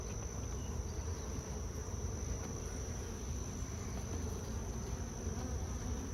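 Honey bees buzzing at an open hive in summer heat, a steady dense hum that holds without breaks, moderately faint and close, with no talking.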